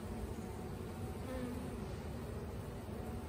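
Honey bees buzz continuously around an open backyard hive on a hot summer day, a dense, steady drone close by with no talking.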